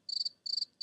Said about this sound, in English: Nothing but the crickets